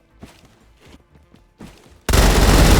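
A DBV-410 burst shotgun firing in the Roblox shooter Phantom Forces, a few quieter knocks and clicks followed by a sudden loud, sustained blast of gunfire.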